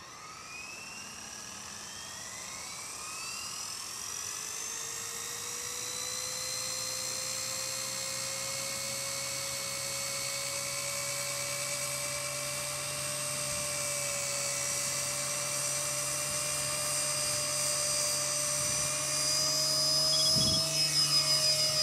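An Align T-REX 250 small RC helicopter spins up, its electric motor and rotor whine climbing steadily in pitch and growing louder over about twenty seconds, close and continuous with no talk.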